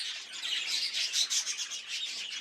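Faint, rapid high chirps and twittering from a budgerigar in a budgie stud aviary, continuous bursts without talk.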